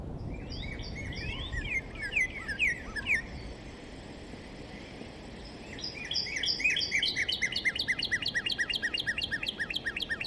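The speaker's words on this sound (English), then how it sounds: "On Merlin, you can actually play the songs of these birds, and I like to play with the birds." Bird songs played from a phone app in New York City's Central Park, answered by live birds: bright, rapid chirping phrases that trade back and forth, fairly close and clear over soft outdoor ambience.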